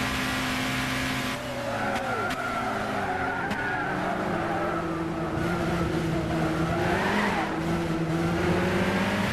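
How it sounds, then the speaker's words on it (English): Nissan Zytek LMP2 prototype race car engine held on the rev limiter down the Le Mans straight in Gran Turismo 6, a loud, steady, buzzing high-revving drone with slight pitch wavers throughout. "On the limiter all the way down the straightaway"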